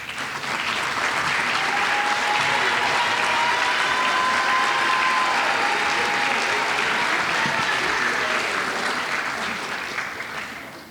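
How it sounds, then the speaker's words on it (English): Sustained applause from a large audience at a university business school undergraduate award ceremony, honoring student organization members as they stand; loud and even throughout before fading slightly at the end. "Will anyone who served in these 4 organizations please rise for applause?"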